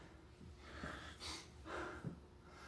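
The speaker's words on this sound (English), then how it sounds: "you hear me breathing hard." Heavy, effortful breathing during a workout, close to the mic, a few slow drawn breaths and sharp exhales with faint background noise.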